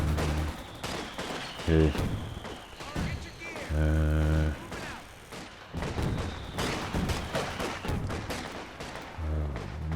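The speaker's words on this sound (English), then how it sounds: "We gotta wait out the barrage here" Artillery barrage in the World War II strategy game Company of Heroes 2, Ardennes Assault at Elsenborn Ridge: repeated heavy booms and blasts through the clip, with someone talking over the explosions.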